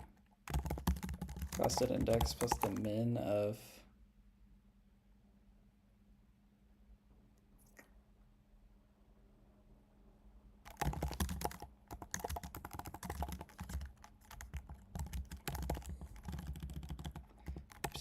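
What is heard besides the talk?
typing code on a computer keyboard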